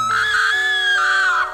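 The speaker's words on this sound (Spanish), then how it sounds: "No pude evitar gritar del susto." One person screams in fright in a school classroom, letting out a single loud, sustained, high-pitched cry that holds for over a second and then trails off.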